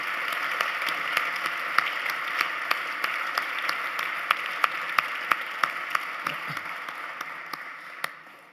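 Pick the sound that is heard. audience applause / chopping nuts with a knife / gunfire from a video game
audience applause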